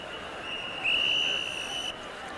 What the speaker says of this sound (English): Whistles blowing down on the field below